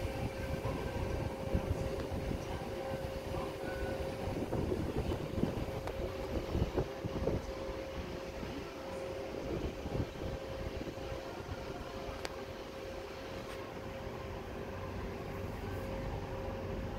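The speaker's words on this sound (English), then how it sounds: "T20 is the first Tangara set to be configured and made." A Tangara passenger train set, T20, passes as a steady, even rumble of wheels and motors with a faint high whine, moderately distant and constant throughout.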